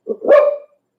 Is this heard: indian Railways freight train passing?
no